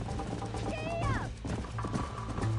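Horse galloping in the video game Red Dead Redemption, a quick rhythmic clip-clop of hooves close by, briefly under a voice and some game sounds.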